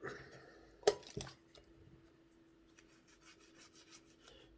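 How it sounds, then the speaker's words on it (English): Dry cotton bud rubbed against the commutator of a Hornby APT model train motor during repair, a sharp scrape then soft, faint rubbing and rasping strokes close to the microphone. "just going to give the commutator a wipe with a dry cotton bud first"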